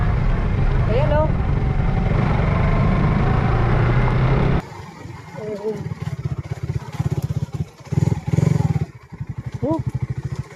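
A motorcycle engine rumbles steadily, then bumps and rattles over a rough, heavily potholed road with uneven jolts while a person talks over it.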